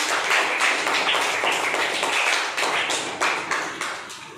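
Children at a classroom quiz game clap together in a steady, continuous round of applause for a correct answer, the dense patter fairly close and with almost no talking over it.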